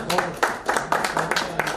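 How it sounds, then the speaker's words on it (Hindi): An audience at a poetry gathering claps in welcome for a poet, a brief burst of brisk, uneven applause from a crowd lasting under two seconds. "आपकी भरपूर तालियों में इस्तकबाल कीजिए"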